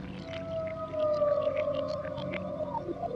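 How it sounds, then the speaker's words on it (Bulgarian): A live whale sends out a long, moaning call of gliding tones that rise and fall for about three seconds, steady and fairly loud with no voices. "Чуваме и се оглеждаме и виждаме жив кит."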